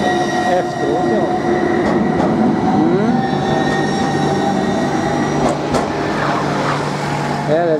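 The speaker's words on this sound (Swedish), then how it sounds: "Titta, här kommer spårvagnen." A tram rolls past loudly and close in a busy Gothenburg city street, its wheels squealing and humming continuously, with voices talking underneath.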